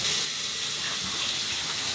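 Cold shower water runs in a steady, close, hissing spray that stays even and continuous throughout, with no talking.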